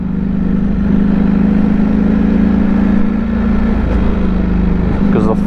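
A Ducati Panigale V4 rolls along at a low city speed of around 30 mph, its engine giving a steady, close, even hum that continues under a rider's talk.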